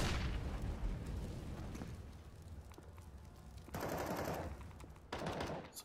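Grenades burst on A site of the Train map during a professional CS:GO match between Gambit and BIG, heavy booming blasts and rumbling gunfire-like crackle rising and falling, with two sharp louder bursts later on, at a moderate distance.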